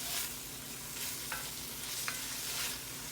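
Collard greens sizzle steadily in a pot on a stove while a spoon stirs them, with a couple of faint scraping knocks against the pan, quiet and close with no voices.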